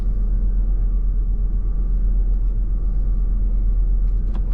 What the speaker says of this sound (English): All right, it did do a burnout